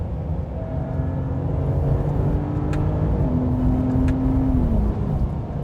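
Road and tire roar inside a moving 2025 Ram 1500 RHO truck with slightly deflated tires, a steady low rumble and hum with a faint tonal whine drifting through it, continuous and close, no talk.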